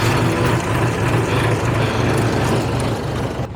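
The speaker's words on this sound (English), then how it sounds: "Should we get the backhoe out?" A backhoe engine running beside a gravel driveway, giving a loud, close diesel drone with a pulsing low throb that stays steady throughout.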